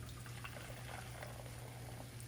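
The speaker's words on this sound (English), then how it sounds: "we're just gonna pour it through the sieve to get out any chunks of egg or cooked egg" Liquid custard is poured through a sieve, a soft, continuous pouring and trickling sound heard faintly and close, with no talk.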